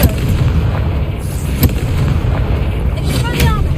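A fiery Confringo spell blasts in the Hogwarts Legacy video game, with loud booming impacts and crackling bursts over a rumbling game soundscape, sharp hits recurring throughout.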